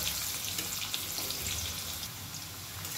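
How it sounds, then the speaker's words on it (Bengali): Potatoes frying in oil, a quiet, continuous crackling sizzle that stays even throughout. "আলুগুলো ভাজা হয়ে গেছে"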